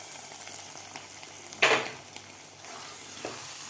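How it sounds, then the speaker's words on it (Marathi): A spoon stirs fried dry fruits into a pan of carrot halwa, with a soft low sizzle and one brief scraping stir standing out near the middle. "आता आपल्याला हे मिक्स करून घ्यायचं आहे ड्रायफ्रूट घातल्यानंतर"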